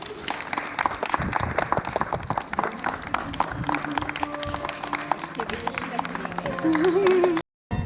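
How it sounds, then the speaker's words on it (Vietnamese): Wedding guests at a ceremony in Průhonice Castle break into lively applause after the ring exchange, dense clapping from a crowd with voices chattering underneath. "xin tất cả các quý vị một tràng vỗ tay ạ"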